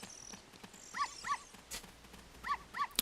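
Dogs barking in Zelda: Ocarina of Time, four short, clear yaps in two pairs at moderate distance over faint game ambience, with no talking.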